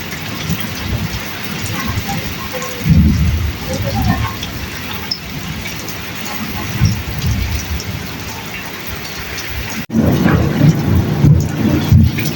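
Heavy rain pours steadily in a Pakistani Punjab village, a dense close hiss across the whole stretch, with low rumbles of thunder rolling in and a sharp crack near the end.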